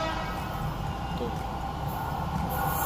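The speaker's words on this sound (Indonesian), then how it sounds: "Nah, ini keretanya udah mau nyampe nih." Jakarta MRT train pulling into the platform, a loud continuous rumbling roar filling the station, with faint talk underneath.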